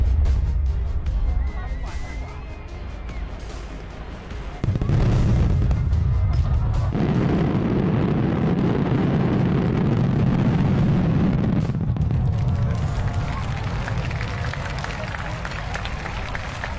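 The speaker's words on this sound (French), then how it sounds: "L'un des feux d'artifice les plus impressionnants du festival de feux d'artifice de Kashiwazaki au Japon" Fireworks at the Kashiwazaki fireworks festival in Japan send out several deep, loud booms that roll into sustained rumbling, with crowd noise underneath.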